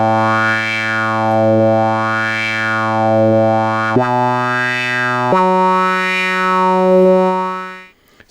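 A Behringer Neutron synthesizer's bright, buzzy tone holds a few sustained notes while its filter sweeps up and down, giving a nasal, quacking wah character, then fades out.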